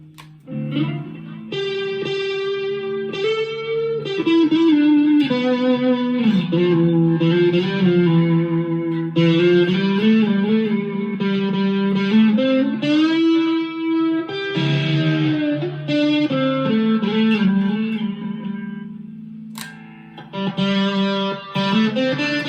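Chapman ML1 Traditional electric guitar on an amp's crunch channel, a moderately driven tone, strummed chords and single-note phrases played loud and continuous.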